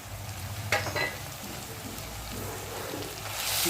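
Fresh garden curry leaves dropped into hot ghee, crackling and sizzling close up in a steady hiss that swells louder toward the end.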